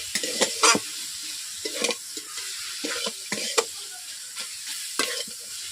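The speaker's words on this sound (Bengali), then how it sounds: "এইভাবে 10 মিনিট ধরে ভেজিটেবলগুলোকে নাড়তে থাকবেন" Mixed vegetables and fried nuts are stirred in a sizzling pan for Bengali vegetable chop filling: repeated sharp spatula scrapes over a continuous close frying hiss.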